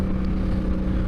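Motorcycle engine while riding along an ordinary road route, a brief, steady low hum close by with no talking.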